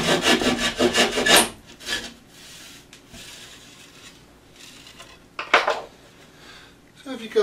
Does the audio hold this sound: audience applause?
no